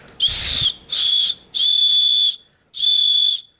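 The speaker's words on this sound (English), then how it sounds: "blow in the whistle." A shrill, steady whistle built into an Elk Ridge Hiker II folding knife, blown four times in separate blasts of about half a second to a second each, loud and close, with short gaps between.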